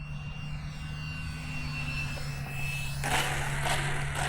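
An E-flite Viper 64mm EDF RC jet on its landing approach: the steady whine of the ducted fan sounds from some distance, then swells into a louder, rougher rush as the throttle comes back up near the end.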